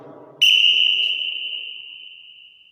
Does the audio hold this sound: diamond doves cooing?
no